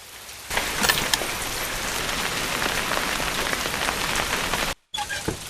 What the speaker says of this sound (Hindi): पर इतनी बारिश में तू कहाँ जा रही है?